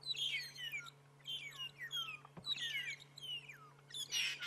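Birds in the Sabi Sand bush at sunrise, a flock giving busy overlapping chirps and squawking calls, close and lively with one sharp knock midway.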